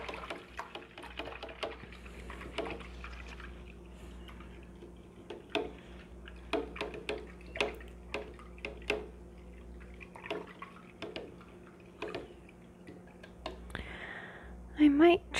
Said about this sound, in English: rinse my brush out